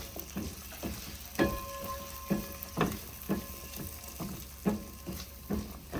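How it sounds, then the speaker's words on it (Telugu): Cumin and coriander powder fry in oil in an Indian curry, giving a soft crackling sizzle. A spoon scrapes and taps the pan in an uneven stirring rhythm, close up and with no voices. "అండ్ క్యూమిన్ కొరియాండర్ పౌడర్, ఇది మంచిగా పచ్చివాసన లేకుండా మంచిగా ఫ్రై అవ్వాలి."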